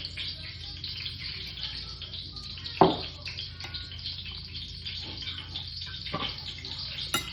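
Water runs steadily from a tap into a saltfish fritter mixture, a continuous hissing splash with a few louder clunks and spurts near the middle.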